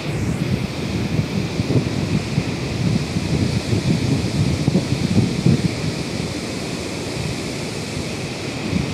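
Nuranang waterfall in Arunachal Pradesh roars steadily close by, a dense, continuous rush of falling water and spray filling the air without a break or any voices.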